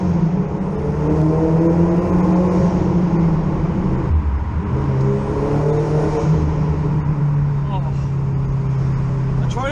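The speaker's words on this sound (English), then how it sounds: "It sounds supercar type noise" A loud modified Audi TT exhaust drones and revs continuously in a tunnel, booming as if enclosed, with a dip and rise in pitch partway through.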